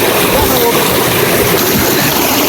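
Cold river water at Puliyancholai, Namakkal, rushing loudly and close, a constant dense splashing flow with small surges as someone steps in, a voice faintly present beneath it.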